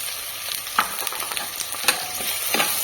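Crushed ginger and garlic frying with onions in a pan, a continuous close sizzle broken by sharp spatula scrapes and taps, moderately loud, with no voices.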